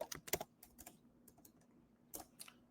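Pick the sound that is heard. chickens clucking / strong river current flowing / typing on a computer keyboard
typing on a computer keyboard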